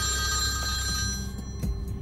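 A mobile phone rings inside a moving car during a driving lesson, its tonal electronic ring sustained and fairly loud over the engine and road hum, then cutting off near the end.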